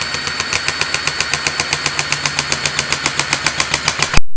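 Cordless grease gun pumping against a closed pressure gauge setup that mimics a clogged grease fitting; steady, rapid mechanical pulsing strokes, close and even, ending with an abrupt clunk.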